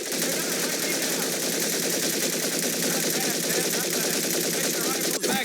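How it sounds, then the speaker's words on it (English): Automatic weapons fire in a rapid, dense rattle during shooting practice in the video game Medal of Honor: Pacific Assault, sustained and loud throughout the stretch. "Looks like you've developed an affinity for automatic weapons, Private Conlon."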